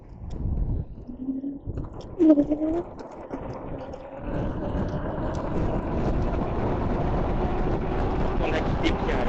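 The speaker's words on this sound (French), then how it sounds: "Oh, le bruit des moteurs." Engines rumble in a steady, broad drone that builds after a few seconds and holds loud, with brief voices and cooing-like sounds early on.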